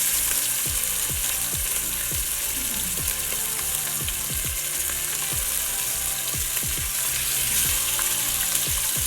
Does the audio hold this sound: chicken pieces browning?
yes